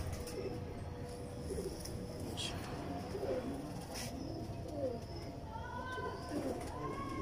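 Lahore champion-breed pigeons coo in soft repeated rolling calls over a steady background hum, with faint chirps scattered through and the birds fairly close.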